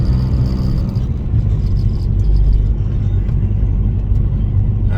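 A turbocharged Mazdaspeed car on drag radials, driving on a snowy road, gives a steady, heavy interior engine rumble and road roar at moderate speed.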